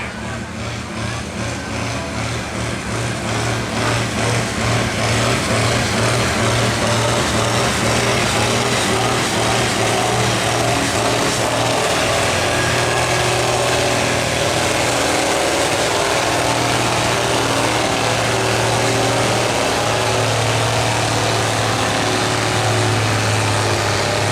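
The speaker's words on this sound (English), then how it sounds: "Kevin Farrell coming up with his Ace tractor." Ace tractor pulling a 14,000 lb sled at a county fair tractor pull, its engine roaring loud and sustained with a steady low drone and strained revving as it works down the track, some faint voices underneath.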